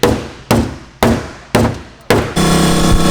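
Four or five sharp hammer blows land at an even pace on a Nissan S13 car being cut up, each ringing briefly, then a steady buzzing mechanical noise takes over.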